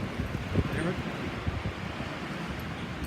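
Strong wind roars steadily through a Colorado Springs blizzard, a dense low buffeting rumble with gusts and microphone wind noise throughout, loud and close with no clear talk.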